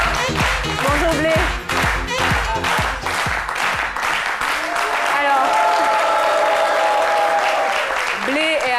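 A studio audience on a French-language midday TV talk show claps for the arriving guest over pulsing music; the applause thins after a few seconds as a voice starts speaking over the lingering music.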